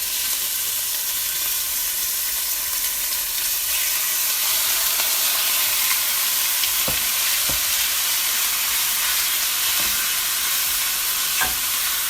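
Pieces of steak sear in a pan of hot oil, a loud continuous sizzle and hiss close by, with a few sharp clicks from stirring and moving the meat; nobody speaks.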